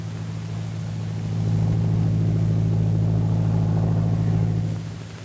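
A patrol plane passes overhead in a 1939 adventure film, its propeller engine a steady, loud droning hum that swells a little and then fades slightly at the end.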